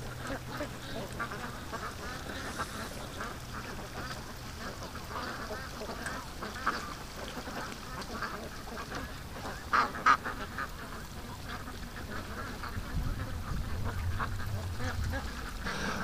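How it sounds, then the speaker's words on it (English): Ducks quack intermittently outdoors on a quiet morning near water, a few sharper calls standing out over soft background ambience. "ducks are coming over to me here"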